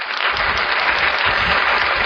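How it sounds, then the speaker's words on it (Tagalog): A church congregation claps together in a dense, loud round of applause that holds steady throughout, many hands blending into a continuous close patter. "ayan, palakpakan natin ng Lord."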